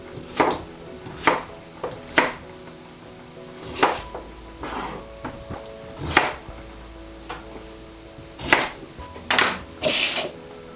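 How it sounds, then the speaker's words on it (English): A knife chops peeled sweet potatoes into even pieces on a cutting board, with sharp, irregular thuds and occasional quicker bursts, close and clear with no talking. "just peel the sweet potatoes and then just try to chop them into even sizes so they all boil evenly."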